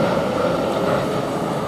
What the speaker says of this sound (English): Now this train's now leaving, which is from Bedford towards Freebridge